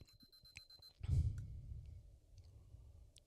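An electronic beep holds as a steady high tone for nearly a second, then a soft thud and rustling noise follow, with no talking.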